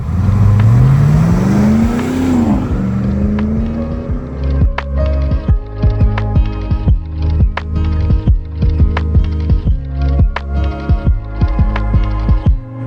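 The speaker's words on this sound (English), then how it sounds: "Urban Brute is powered by our GM LS3 V8 engine with 6-speed automatic" A GM LS3 V8 engine in a restored 1995 Land Rover Defender 110 revs up with a loud rising roar, then drops into a lumpy, throbbing idle close by.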